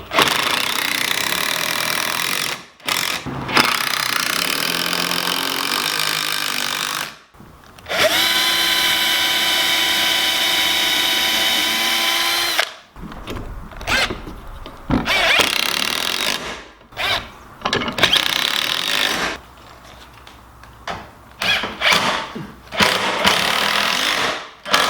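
A power tool cuts a heavy wood board along a marked line, a loud steady whining run broken by short bursts and stops, with the motor revving up and down between passes.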